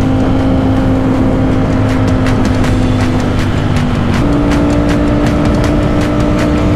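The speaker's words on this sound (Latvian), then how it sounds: "Palaižam mašīnas." Motorcycle engines idling steadily on a group moto ride to Gdańsk, a continuous loud drone with a pitch shift partway as revs change, heard alone without talk.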